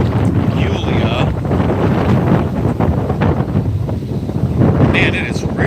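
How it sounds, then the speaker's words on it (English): Strong gusty wind buffets the microphone outdoors on a downtown street in Naperville, a continuous low roaring rumble that swells and eases, with faint speech and passing street sounds underneath. "Man, it is really windy."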